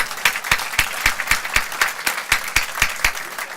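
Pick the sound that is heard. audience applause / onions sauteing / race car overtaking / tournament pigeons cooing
audience applause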